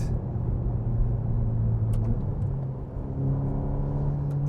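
A 2024 Ferrari Roma engine idles and hums steadily with a low rumbling tone, close by, rising slightly near the end with no talking.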